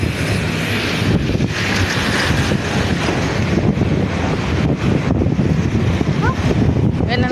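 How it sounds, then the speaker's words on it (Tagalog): Strong wind roars and buffets across the microphone in gusts, loud and close, with a low rumble beneath and faint voices in the background. "Yan ang hangin."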